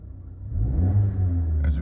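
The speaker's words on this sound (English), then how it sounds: "So when you rev this car" A Maruti Suzuki Baleno Alpha AGS car engine revs up, rising from a low rumble to a strong steady drone before easing off, close and loud.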